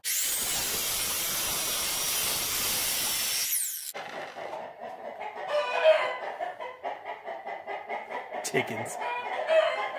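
After a few seconds of loud broadband noise, chickens cluck in uneven bursts nearby and a rooster's crow rises near the end.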